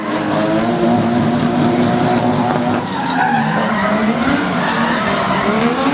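Two Nissan S13 drift cars screaming through a pro-am drift battle at Tauranga, a loud sustained tire squeal layered over high-revving engines, continuous and close for the whole stretch.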